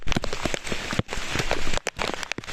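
Monsoon rain pours on a hillside trekking trail at Bhivpuri near a waterfall, a dense, close patter of drops on surfaces, loud and continuous with a few brief dips.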